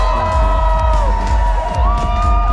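A crowd cheering and whooping at a Red Bull tandem rollercoaster event in Florida, loud sustained voices and shouts filling the whole span with rising tones.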